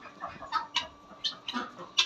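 Chickens clucking in a garden where they are kept alongside guinea fowl and ducks: a close series of short, separate clucks, about six or seven in two seconds, with no talking.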